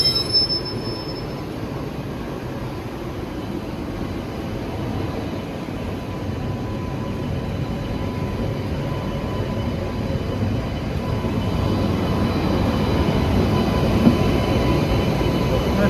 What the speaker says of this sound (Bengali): ট্রেন ছেড়ে দিল, মানে 2 মিনিটে হল